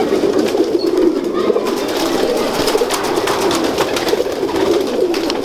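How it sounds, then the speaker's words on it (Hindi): Domestic pigeons from a bred fancy line coo in a loft, a steady close murmur of overlapping soft cooing that continues without pause, with faint background noise and occasional brief chirps. "दिलावर खान साहब के कबूतरों की नस्ल आगे जो इन्होंने बनाई है वो उनका शौक करवाएं आपको।"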